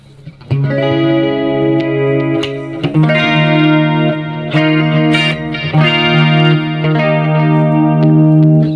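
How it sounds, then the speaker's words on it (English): An electric guitar with a clean, shimmering 80s-style chorus tone from a BOSS eBand JS-10 plays sustained chords and arpeggiated notes, loud and close, with no voices. "you can play pretty much anything you want to for a clean tone with chorus"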